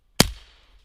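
A single sharp crack from a Daisy Red Ryder BB pistol, close and abrupt with a brief fading tail, standing alone against near silence.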